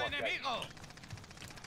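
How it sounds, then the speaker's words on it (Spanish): Gunfire in Call of Duty Warzone, heard as rapid, fairly faint bursts of distant shots that follow a brief stretch of close talking. "Desde naranja escucho el disparo"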